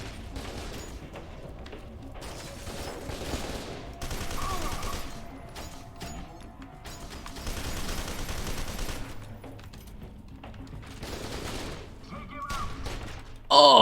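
Submachine gun fire in F.E.A.R. 2 sounds as rapid bursts and scattered shots through a tense firefight, with thuds and muffled booms mixed under ongoing talk.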